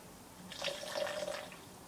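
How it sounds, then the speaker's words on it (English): Water poured into a cup for a simple sodium carbonate chemistry demonstration gives a brief, faint trickling splash lasting about a second against quiet background hiss. "So, in we pour in some water."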